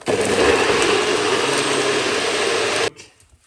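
A blender whirs loudly and steadily for about three seconds while making a pineapple ginger drink, then cuts off abruptly, leaving brief quiet.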